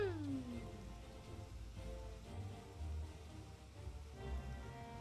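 Rain falls steadily in the Final Fantasy 14 game world as a faint, even patter with a low rumble beneath it, joined briefly by a soft gliding tonal sound at the start.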